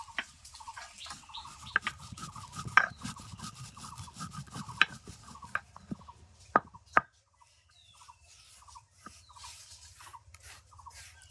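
Spices for tamarind pickle are coarsely crushed by hand, giving a steady rhythm of soft grinding and scraping strokes with a few sharper knocks, then a quieter pause and lighter scraping toward the end.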